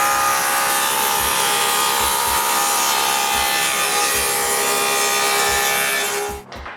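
A power tool cuts a rabbet in wood for a miter saw cabinet, a loud, continuous high-pitched routing whine with a grainy, rasping edge and faint low thumps, running several seconds before winding down at the end, with no voices.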